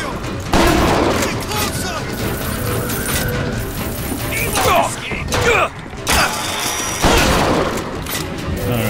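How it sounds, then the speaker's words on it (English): Shotgun blasts and skyline-strike combat in Bioshock Infinite's Clash in the Clouds arena, loud booming shots and clanking mechanical noise over a dense, busy game mix with a voice speaking at times. "I can do the skyline strikes and then shoot people with a shotgun"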